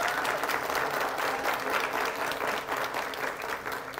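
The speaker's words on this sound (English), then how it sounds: "please give him a round of applause." Sustained round of applause from the audience at a live broadcast debate in Namibia, steady dense clapping for the panel filling the whole stretch at an even level with no talk over it.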